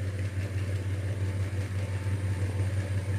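A car engine, likely a modified exhaust setup, runs steadily at close range with a strong low rumble; the throttle is held with little change in pitch, so the revving sounds more like a sustained idle or hold than sharp bursts.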